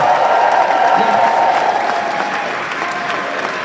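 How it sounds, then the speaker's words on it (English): Audience at the Edinburgh Comedy Awards announcement gives the award nominees sustained, dense applause that is loud and close and fades slightly toward the end. "can we have a round of applause for each of the nominees?"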